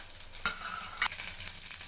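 Green chillies dropped into hot tempering oil with mustard seeds and cumin, a bright crackling sizzle that flares up sharply at the start and holds steady close by, with no talk.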